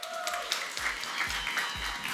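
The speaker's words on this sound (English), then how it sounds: "Please welcome Ben to the stage with a big round of applause" Audience applause at an AirAsia X event greeting the airline's CEO onto the stage, a steady wash of clapping throughout the short stretch with a few low thumps and no speech over it.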